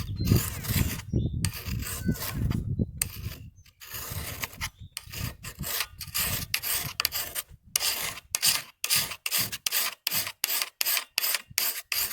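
A file rasps across a pruning tool's blade, starting with long uneven scraping strokes and then settling into a quick, regular series of short, crisp strokes, close and alone.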